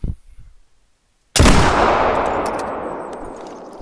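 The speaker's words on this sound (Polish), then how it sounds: "Kurczę, chyba był idealny strzał w serduszko" A single loud rifle shot at a wapiti in the video game theHunter: Call of the Wild cracks suddenly after a quiet stretch, followed by a long rolling echo that slowly fades.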